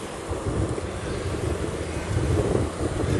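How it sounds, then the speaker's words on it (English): Strong wind buffets the microphone on the deck of a cruise ship near the bow, a steady loud roaring rumble that swells slightly toward the end. "Oh man, that wind is kicking me around here."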